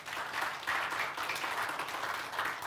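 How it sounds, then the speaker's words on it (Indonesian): A church congregation at a Christmas service applauds together, a dense, steady wash of clapping from a large crowd lasting throughout. "Tepuk tangan kemuliaan bagi nama Tuhan."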